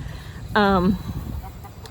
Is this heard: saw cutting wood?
no